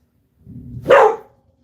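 A dog gives a single sharp bark during a thunderstorm, preceded by a low rumbling sound, close and fairly loud against otherwise silent surroundings.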